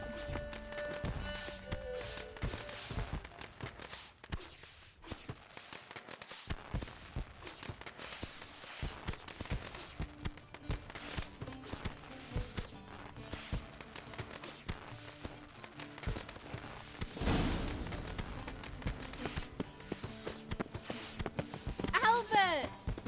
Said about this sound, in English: Saddled horses await in the stables.